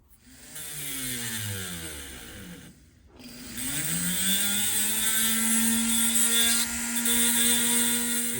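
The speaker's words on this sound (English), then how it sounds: "as the weld grinds down, we're exposing the ball" A grinder works down the welded tipping on a fountain pen nib, its whining tone falling and rising in pitch as the load changes, with a short break before it spins back up to a steady high whine.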